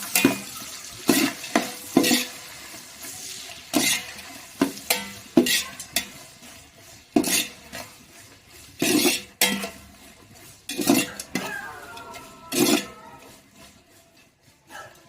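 Onions sautéing in a pan for chicken biryani, a soft steady sizzle broken by repeated loud scraping stirs of a spoon against the pan, about a dozen strokes at an uneven rhythm, close by with no talking.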